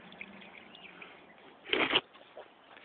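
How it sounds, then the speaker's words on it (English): Water gushes briefly from an old hand pump at an abandoned well house in a ghost town, a short close splash and pour rising out of faint outdoor background. "Water still pumps at this old well house."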